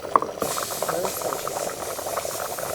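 Soup with rice and pasta bubbling hard in a pot, a steady busy boil with a louder knock near the start, heard up close while a voice talks over it.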